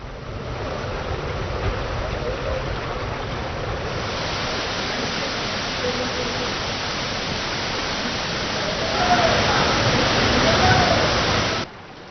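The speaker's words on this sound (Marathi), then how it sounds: "माजी विधानसभेचे अध्यक्ष बाबासाहेब कुपेकर यांची ही खासगी जागा आहे आणि त्यांच्याच नावावरून या धबधब्याला बाबा धबधबा असं नावही पडलंय" Baba waterfall in Maharashtra during heavy rain, a dense, steady roar of rushing water that swells louder near the end and cuts off abruptly.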